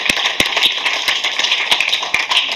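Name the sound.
church congregation applause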